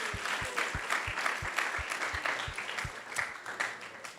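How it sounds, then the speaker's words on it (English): Applause from the audience at a Srimad Bhagavatam class in a temple hall, a steady wash of many hands clapping with low thumps recurring roughly every third of a second, moderately loud and without talk. "So please give her a big round of applause."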